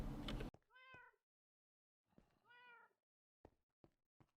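A cat outside meows twice, each a clear rising-falling call, with a few soft knocks afterward and a burst of noise at the very start; otherwise quiet, no talking.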